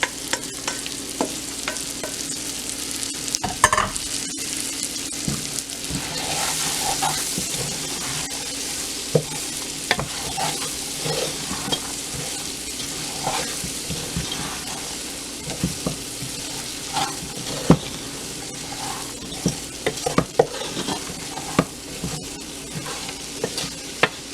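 Okra fries in a pot under a continuous sizzle, with frequent scraping and clacking as it is stirred, all close and moderately loud.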